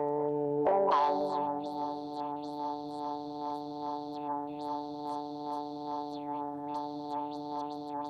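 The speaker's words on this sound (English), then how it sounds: "So there's a lot of filter noise happening." A synth pad in Ableton Live 12 holds a sustained tone while a resonant filter sweeps up and down repeatedly, giving loud, cycling whooshes of filter noise with a distorted, chorused edge and no voices.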